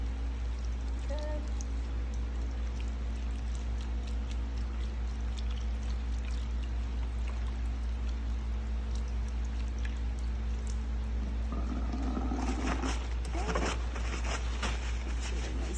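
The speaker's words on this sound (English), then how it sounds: "Making sure we're washing our hands." Hands are washed under running tap water while preparing for an IV placement procedure. A soft, steady stream of water runs throughout, with brief louder splashing and movement near the end.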